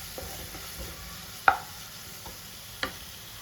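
Ginger garlic paste frying in a pan for Thalassery dum chicken biryani, stirred with a spoon: a quiet steady sizzle with a couple of sharp utensil scrapes against the pan, no talking.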